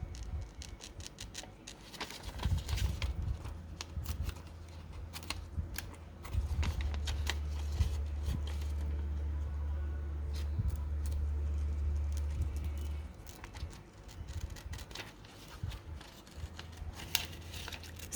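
Scissors snip carefully around a magazine picture in fussy cutting: a series of small, irregular crisp snips and paper rustles close by, with a low steady hum underneath in the middle stretch.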